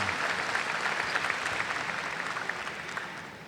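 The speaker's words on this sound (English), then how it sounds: "let's give our graduates a round of applause" Family and friends applaud graduates of the Trinidad Garza Early College High School class of 2014, steady dense clapping from a large crowd filling the whole stretch, easing slightly toward the end.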